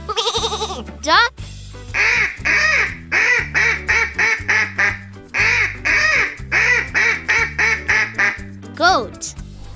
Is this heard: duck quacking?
yes